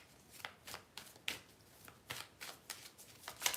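Playing cards being shuffled by hand, a series of crisp riffling bursts in an even rhythm, close but soft.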